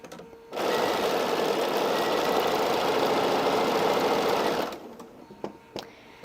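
A sewing machine runs a quarter-inch quilt seam for a Christmas quilt in one steady burst of fast stitching lasting about four seconds, close and clear, followed by a few light clicks.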